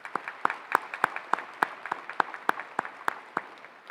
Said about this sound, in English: Could we give those teachers a round of applause,